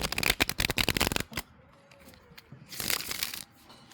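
A tarot card deck being shuffled up close: a rapid burst of crisp riffling clicks, then a quiet pause with a soft tap, followed by a second, softer riffle.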